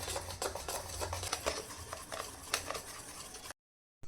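Instant uttapam batter made without dal or rice is whisked steadily in a bowl, giving quick scraping, tapping strokes close by for a few seconds before breaking off briefly into silence.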